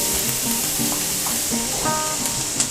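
Onions frying in a hot pan for a home-cooked dish, giving a steady, close sizzle with faint stirring and clinks throughout and no talking.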